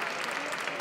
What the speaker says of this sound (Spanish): La gente aplaude a un valiente